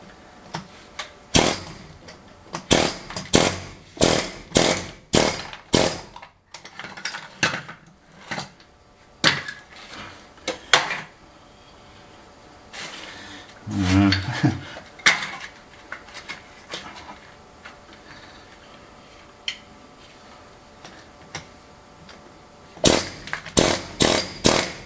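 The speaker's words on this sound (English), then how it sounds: "I think I'm going to get the air hammer out and just gently try and uncover it" An air hammer chips at an old floor to uncover stones beneath, rattling in loud rapid bursts of a few seconds each, separated by pauses and scraping.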